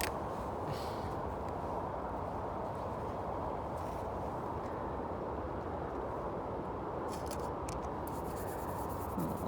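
A pencil sketching a rough outline for a painting outdoors on a sunny winter day, heard as a steady, dense scratching that runs unbroken throughout.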